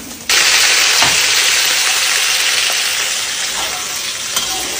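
Loud, steady sizzling and crackling of fish frying in hot oil in a pan starts abruptly and continues close up without voices.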